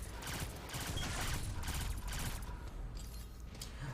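Enemy gunfire in the Destiny 2 video game, a dense, continuous burst of rapid shots with mechanical clatter, loud at first and thinning toward the end.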